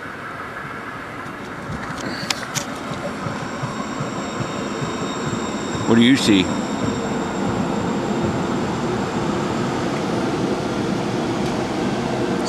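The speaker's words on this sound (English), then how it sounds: "A train coming in from the other way." A train passes on railway tracks nearby with a steady rolling rumble and a brief metallic wheel squeal, while a person speaks briefly.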